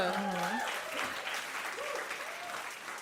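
A live audience at a 2017 podcast taping applauds in a broad, steady patter, with a voice speaking over the start before the clapping carries on and slowly fades.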